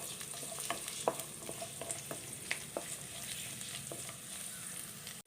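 Chopped ginger and garlic sauté with browned onions in a pan, a soft continuous sizzle broken by light scraping stirs and small pops, close but fairly quiet.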